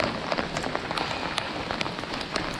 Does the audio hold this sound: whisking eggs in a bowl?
no